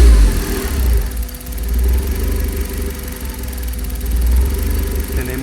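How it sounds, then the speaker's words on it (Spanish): Car engine with a MAP sensor under diagnostic testing, running steadily at a mid-pitched idle with gentle swells as the throttle is opened slightly, continuous and fairly loud with no talk. "En este momento vamos a acelerar un poquito el motor."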